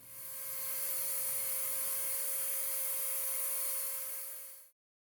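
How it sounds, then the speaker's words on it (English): A high-pitched Dremel with a ball-tipped bit whines steadily, drilling a pilot hole into Tiffany stone for several seconds before cutting off abruptly. "drill a pilot hole with this ball-tipped Dremel bit"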